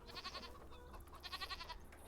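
Farm Sim 25 goats bleating in two bursts, a short rippling cry then a longer wavering one after a brief pause, moderately close over a low steady farm ambience.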